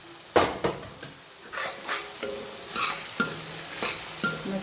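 Spices such as coriander-cumin powder, turmeric and red chilli being stirred in a frying pan, with a quiet sizzle under repeated scraping and clinking of a spoon against the pan, close up and without voices.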